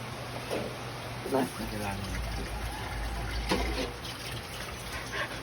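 Water poured into a cooking pan beside an outdoor stream, a soft trickling splash running under people talking and laughing nearby.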